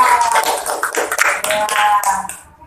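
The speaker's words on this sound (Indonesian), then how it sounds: "Bagus, tepuk tangan." Brisk hand clapping from a small group of students in a classroom, fairly close, lasting a couple of seconds before tapering off, with voices mixed in.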